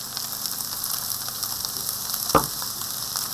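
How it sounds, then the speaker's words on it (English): Green Thai curry paste sizzles and fries steadily in a hot pan, a continuous crackling hiss with one brief louder clatter near the end. "now I'm going to add my curry paste"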